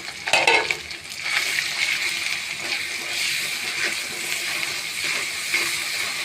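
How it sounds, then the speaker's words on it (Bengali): Spices including ginger-garlic paste, chilli, cumin and turmeric powders sizzle in a hot pan, opening with a loud wet splutter and clatter as they go in, then settling into a steady close hiss and crackle. "মশলাটা ভালোভাবে কষাই নিব।"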